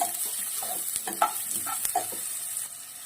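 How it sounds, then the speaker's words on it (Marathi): A flat spatula stirs onion with asafoetida and mustard seeds in a hot pan, producing close scraping strokes and bursts of sizzle over a bright frying hiss. "कांदा शक्यतो मी अशा उलटण्याने ढवळते"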